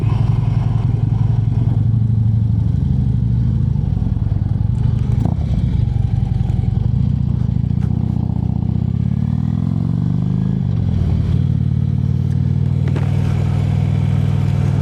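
Motorcycle cruising on a rural road, a steady close engine drone with wind rush and shifting revs, easing off and picking up again through the ride.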